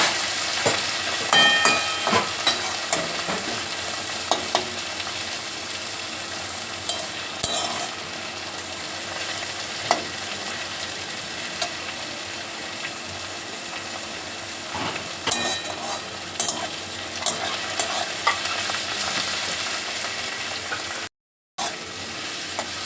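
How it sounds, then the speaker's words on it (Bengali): Chopped tomato and onion frying in a pan for a chicken dish, a loud, continuous sizzle with frequent scraping stirs and occasional utensil clinks, close up throughout with a brief cut to silence near the end. "এর মাংসের টমেটো আর পেঁয়াজ একসাথে ভাজা হয়ে গেছে"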